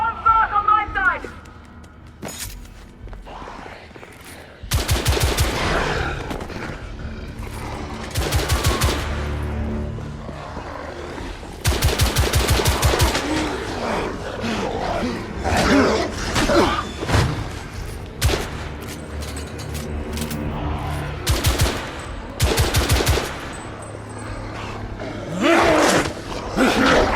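Bursts of gunfire from The Order: 1886, a third-person shooter set in an alternate 1886 London, crack out in loud clusters between stretches of tense game music and ambience, with some voices heard in the mix.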